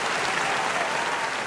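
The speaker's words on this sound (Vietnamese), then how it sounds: "một tràng vỗ tay dành cho giọng ca bí ẩn số 3" Steady, dense applause from a studio audience for mystery singer number 3 on the Vietnamese TV singing game show Giọng ải giọng ai, an even wash of clapping throughout with no voices.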